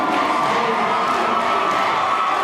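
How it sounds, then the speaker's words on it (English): Crowd at a high school basketball game in a packed gym cheering steadily during a free throw, a dense continuous roar of voices with shouts mixed in, loud and unbroken throughout. "Listen to this crowd for Lucas Day on the free throw line."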